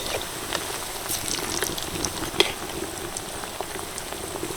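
Egg snacks frying in oil over medium heat, making a continuous soft crackling and bubbling sizzle with scattered small pops, fairly close and steady throughout, with one sharper pop partway through.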